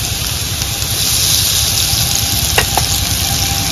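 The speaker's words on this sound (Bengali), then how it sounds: "কচুটা ভেজে নেব।" Pieces of taro (man kochu) fry in a pan for a rui fish curry, making a loud, continuous close-up sizzle with a couple of brief clinks and no voices.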